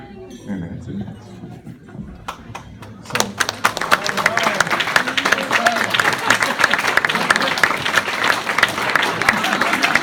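A wedding reception room erupts into loud, sustained applause after a best man's toast, following a quieter stretch with a few glass clinks and murmurs, the clapping dense and continuous.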